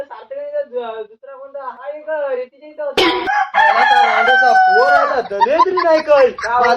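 A rooster crows loudly and close, with repeated clucks and calls from chickens, and people speak over the birds in the second half.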